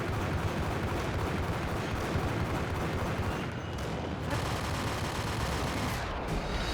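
Dense, continuous Beretta pistol fire in the Max Payne video game, loud rapid shots and impacts blurring into a sustained roar with no break.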